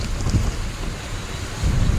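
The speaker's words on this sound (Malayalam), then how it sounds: "നല്ല ചാറ്റൽ മഴ കിട്ടുന്നുണ്ട്" Light drizzle falls during a drive through Wayanad, heard as a steady diffuse hiss with low rumbling wind and road noise, fairly loud and continuous, with no voices.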